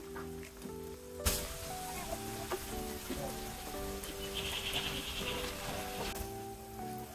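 Eggplant slices dropped into sizzling masala for a boal fish curry: a sudden hit as they land, then a continuous crackling sizzle with small pops, close and moderately quiet, over a faint steady hum.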